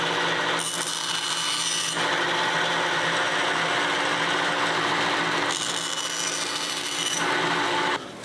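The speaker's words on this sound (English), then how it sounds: "And then I'll trim this up on the bandsaw." A bandsaw trims a wooden guitar rosette, its steady loud whine running throughout with brighter bursts as the blade bites the wood, close by and without talk.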